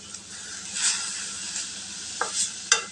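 Chopped onions and curry leaves sautéing in hot oil with mustard seeds already popped, a soft continuous sizzle broken by a few brief spatula scrapes.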